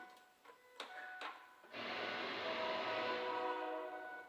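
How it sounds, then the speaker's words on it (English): Ford 5.4L V8 engine cranking over with the throttle held wide open, a steady, moderately loud rhythmic starter churn lasting several seconds after a few faint clicks. "let's get the cranking on this thing and see how she sounds"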